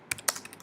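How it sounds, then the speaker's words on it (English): Typing on a Mac computer keyboard while entering a chart title in Excel: a few quick, crisp key clicks in close succession, near and moderately loud, followed by lighter taps, with no talking. "What I'm going to do is I'm just going to type in here"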